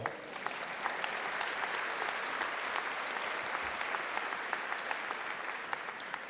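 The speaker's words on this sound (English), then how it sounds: "Yes, you may applaud." Commencement crowd applauds in a large hall at a 2011 spring university graduation ceremony, a steady, distant-sounding roar of clapping with a few sharper individual claps standing out.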